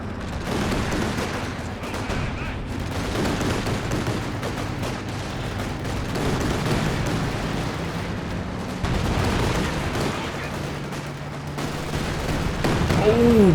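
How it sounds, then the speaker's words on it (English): A Katyusha rocket artillery barrage in Company of Heroes 2 sounds as a dense, continuous roar of launches and impacts that rumbles on without a break, with battle noise layered underneath and a voice talking over it. "big Katyusha barrage"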